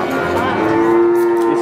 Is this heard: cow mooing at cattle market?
yes